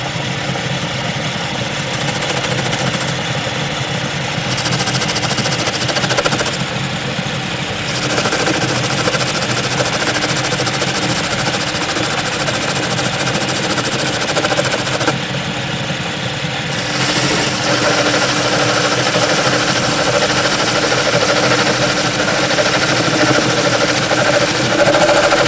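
A lathe facing off the collar of a Picco P7 model engine produces a steady, close mechanical whir and hum, with a few brief shifts in tone as the cut proceeds.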